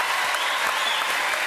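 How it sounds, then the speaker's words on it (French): TV studio audience clapping during a French variety show, a dense, even burst of applause filling the whole brief moment at moderate loudness. "je voudrais quand même qu'on applaudisse notre ami sorcière, Emma."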